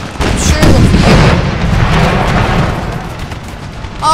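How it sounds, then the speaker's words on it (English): Cannon fire booms in a Civil War video game battle at the siege of Richmond, a loud, heavy blast that rumbles and slowly fades, followed by another sharp report at the end. "Oh, just stand in the cannon fire."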